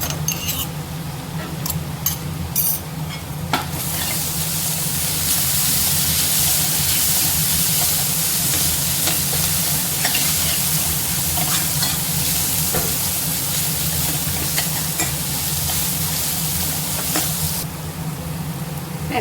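Onions sautéing in a pan with crushed ginger and garlic for a prawn thokku, a steady loud sizzle with stirring scrapes running throughout, slightly dropping near the end, with no talk.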